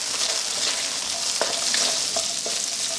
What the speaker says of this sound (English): We'll fry this for about 2 minutes, and then we'll add our black bean sauce.